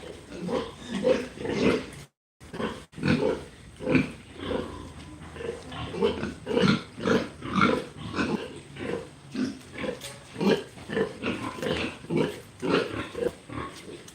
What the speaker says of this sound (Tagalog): mas stress mga baboy